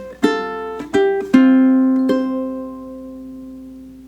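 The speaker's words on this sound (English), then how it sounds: "Let me play this pickup going into the first bar so you can have a context of what it sounds like" Four plucked classical ukulele notes form a pickup into the opening bar of Andante No. 2, each note bright and close, the last ringing out and slowly fading, with no voices.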